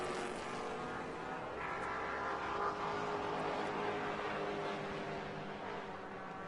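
GT race cars at Road America roar steadily at close range, a continuous engine drone that swells briefly in the middle as a car passes, with no talk over it.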